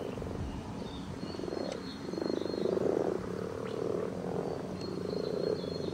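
Frogs croaking steadily in a pond setting where frog eggs are present, a dense chorus of low, rough calls with a few higher chirps, fairly close and moderately loud throughout.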